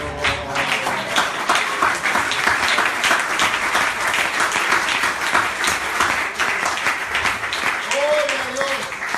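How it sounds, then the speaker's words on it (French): A church congregation at a French-language worship service claps together, a sustained, fairly loud rattle of many hands lasting several seconds, with a few voices rising faintly through it near the end. "applaudissons le Seigneur"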